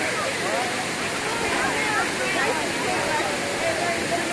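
Water rushing down the rock cascades at Cane Creek Cascades, a constant close hiss and roar of falling water with faint splashy gurgles, no voices over it.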